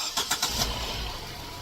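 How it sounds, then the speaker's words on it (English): A car engine, jump-started with a portable UIBI jump starter with air compressor, cranks in a few quick pulses, then catches and settles into a steady low idle nearby. "So we're going to start the car."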